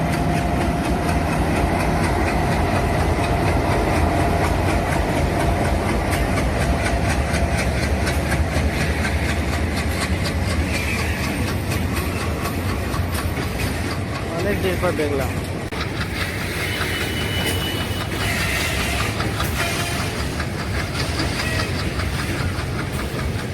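A diesel locomotive at the Bardhaman loco side rumbles steadily and loudly close by, with a deep engine drone and rhythmic rail clatter throughout; a person speaks briefly over it.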